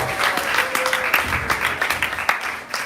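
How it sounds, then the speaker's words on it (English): A round of applause from a devotional gathering's audience honouring three devotees at a Balaram Jayanti celebration: steady, dense clapping sustained close and loud across the whole stretch, with no voices over it. "let's give a round of applause for this three devotees"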